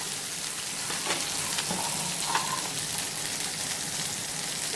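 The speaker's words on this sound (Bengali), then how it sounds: "এই আদা রসুন পেস্টটা আমাকে 1 মিনিট একটু ভালো করে ভেজে নিতে হবে।" Ginger garlic paste fries in a pan for a home-style chicken curry, giving a steady, close, even sizzle with soft crackles and a few small clinks, and no voices over it.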